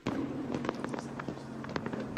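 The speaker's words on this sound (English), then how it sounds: "they're shooting off fireworks" Fireworks at a Bristol NASCAR race crackle and pop in scattered bursts over a steady crowd rumble, moderately loud with no talk.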